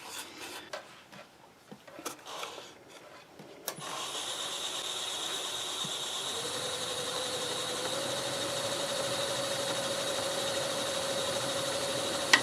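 A wood lathe spins a catalpa bowl at about 800 RPM with a steady, even whir. It starts up after a few light knocks and holds a constant hum with a faint high whine.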